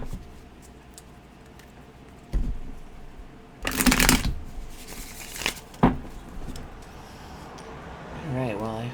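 Tarot cards are shuffled near the microphone in several bursts of riffling and soft slapping, with quieter handling between them.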